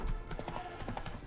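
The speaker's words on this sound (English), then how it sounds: "Spooking my horse." A spooked horse in The Witcher 3 clops its hooves in a quick, steady rhythm and gives a faint whinny, startled by ghosts, with a soft game backdrop underneath.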